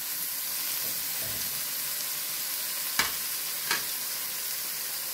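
Chopped onion sizzles steadily in a hot pan for chicken pilaf, a constant close crackle with two sharp clinks of a utensil stirring near the end.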